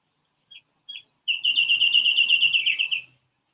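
A bird calls in a forest: two short, high chirps, then a sustained rapid trill of bright, close, fairly loud notes that stops suddenly, with no other sounds.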